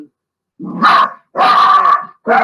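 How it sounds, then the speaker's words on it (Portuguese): Household dogs bark nearby in three loud, sharp bursts separated by short silences, each bark rough and slightly drawn out. "São meus cachorros, né?"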